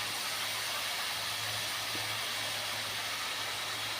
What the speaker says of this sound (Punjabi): ਸਰੋਂ ਦੇ ਤੇਲ ਦਾ ਆਪਾਂ ਨੇ ਲਾਇਆ ਜੀ ਤੜਕਾ